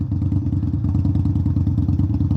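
A 2021 Indian Scout motorcycle fitted with a Hacker Mayhem exhaust rumbles loud and close while riding, a deep, steady pulsing engine note with no talking.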